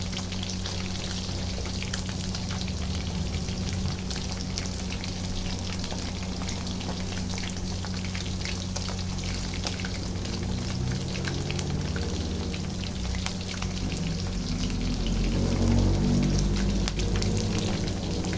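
Food sizzling and frying in an uncovered pan after being flipped, a steady dense crackle that runs the whole time at moderate loudness and swells slightly near the end, with no talking.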